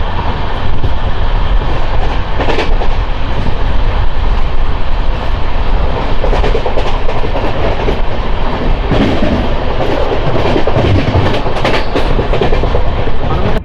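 Palnadu Express, an LHB passenger train, running through without stopping at a station, with a steady loud rumble and rhythmic clickety-clack of wheels on rail heard from on board.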